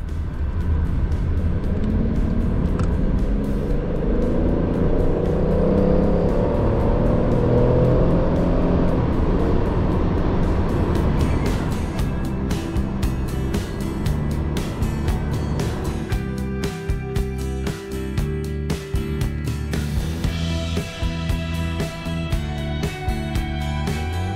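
A powerful V12 engine in a BMW 750iL, left ten years in a field, drones and then revs up, pitch climbing as it accelerates, loud and close from inside the car.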